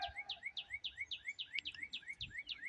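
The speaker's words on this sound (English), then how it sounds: "Listen to the bird." A small bird outdoors repeats a quick, bright chirping call about a dozen times in an even rhythm, fairly close and clear over faint background noise.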